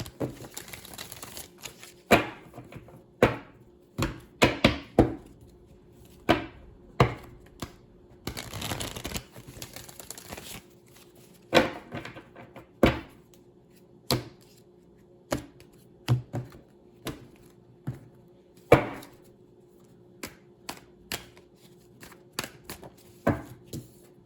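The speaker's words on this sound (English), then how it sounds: "I'm going to pull some cards from the Antique Anatomy Tarot by Claire Goodchild" Antique Anatomy Tarot cards by Claire Goodchild handled and shuffled at close range, a long run of crisp slaps, riffles and taps in an irregular rhythm, with a denser burst of shuffling partway through.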